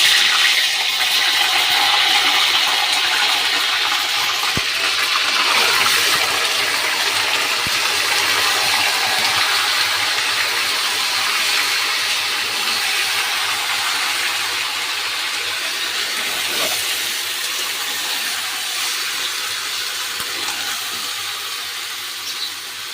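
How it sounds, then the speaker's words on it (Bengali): Chicken pieces frying in hot oil on a gas flame, giving a loud, dense, continuous sizzle that carries on for the whole stretch and slowly eases slightly toward the end, with no voices. "তেলটা আমার গরম হয়ে গেছে, এর ভেতরে আমি চিকেনটা হালকা করে ভেজে নেব।"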